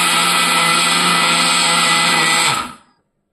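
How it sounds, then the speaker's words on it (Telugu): Mixer grinder powdering sugar with cardamom, a loud steady whirring roar that runs continuously, then winds down and stops near the end. "ఇలా ఫైన్గా మిక్సీ పట్టుకోవాలండి పంచదారని."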